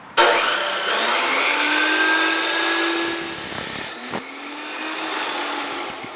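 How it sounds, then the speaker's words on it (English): An abrasive cut-off saw bites into metal stock, a loud whining grind that runs steadily, dips briefly as the cut finishes, then spins up again with no talking. "another nice thing about the abrasive cut-off saw is it allows you to start getting some uniform angles"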